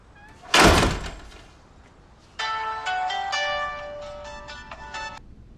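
A phone ringtone plays a repeating electronic melody for about three seconds, loud and close, following a single heavy door slam.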